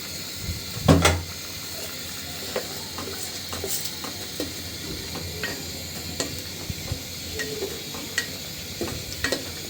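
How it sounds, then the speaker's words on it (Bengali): Pumpkin with five-spice tempering stirred in a sizzling pan, a soft continuous hiss broken by a loud scrape near the start and repeated light spatula clicks and scrapes, close up with no talking. "একটু নাড়া দিয়ে দিচ্ছি।"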